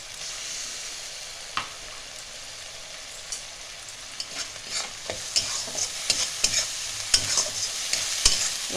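Ginger garlic paste and green chillies fry in a pan for a Bengali bhola fish curry: a soft, steady sizzle beneath irregular spoon scrapes and taps that grow busier toward the end.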